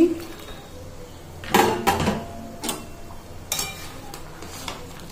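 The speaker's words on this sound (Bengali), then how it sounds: "এই যে দিয়ে দিলাম মাছ আলু" Fish pieces and fried potato go into a pot of fish curry broth with a few brief, clattering knocks of utensil against pot, spaced apart over a quiet background hiss.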